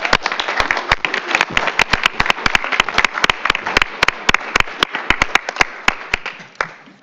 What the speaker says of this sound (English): Let's give one more round of applause for our Provo.